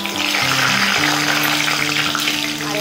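Whole spices (cardamom, cinnamon, cloves, star anise and mace) and torn bay leaf hit hot oil for a Bengali chicken roast, giving a steady, close frying hiss with a few sustained tonal lines running through it.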